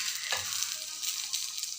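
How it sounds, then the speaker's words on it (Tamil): Chillies, onion, dried coriander and tamarind sizzle steadily in a pan as they are sautéed, with one brief stirring scrape near the start and no talking. "நீங்கள் இந்த மிளகா, வெங்காயம், இந்த காஞ்ச கொத்தமல்லி, புளி இதெல்லாம் போட்டு நல்லா வதக்கிடுங்க"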